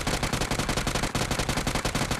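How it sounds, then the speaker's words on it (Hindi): A UMP45 submachine gun in BGMI fires sustained full-auto bursts, loud and close, with a brief break near the middle before the rapid rattle resumes. "हमारा अगला गन है यूएमपी 45, जो कि क्लोज रेंज का बादशाह है"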